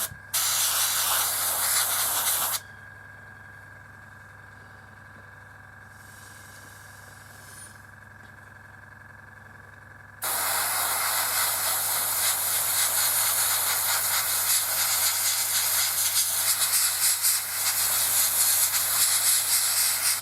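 A cheap airbrush sprays Tamiya XF71 interior green model paint in a loud, steady hiss, stops for several seconds leaving a low hum, then resumes spraying continuously.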